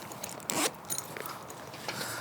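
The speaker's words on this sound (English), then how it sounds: "Back zipper, still as good as ever." Close, quiet zipper on the back compartment of a four-year-old Veto Tech Pac tool bag, one brief rasping pull with a few softer scrapes after it.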